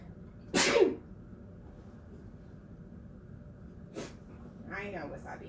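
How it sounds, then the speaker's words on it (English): One sharp, loud sneeze bursts out near the start. Quieter breaths and a brief vocal sound follow over a low background hum. "I know, wasabi, I sneezed."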